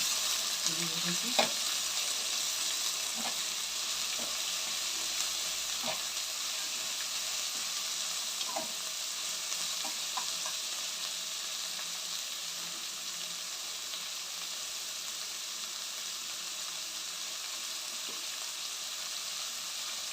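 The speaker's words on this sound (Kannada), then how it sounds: "ಚೆನ್ನಾಗಿ ಫ್ರೈ ಆಗಬೇಕು ಈರುಳ್ಳಿನ" Onions sizzle steadily in a hot pan for a citron rice dish, with a constant frying hiss and occasional light scrapes of a stirring spoon, close and without talk.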